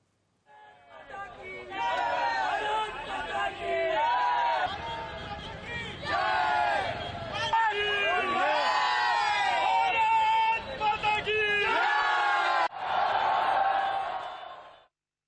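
A crowd of young people celebrating India's victory with Diwali-style cheer in the streets of a Maharashtra city, loud chanted slogans and shouting voices surging together in a continuous, close roar.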